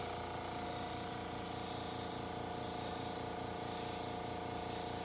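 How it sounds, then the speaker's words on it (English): Paint sprayer spraying paint on a butterfly piece, a steady continuous hiss with a low pump hum underneath, close and constant throughout. "And open up the spigot a little bit. Make sure it's spraying."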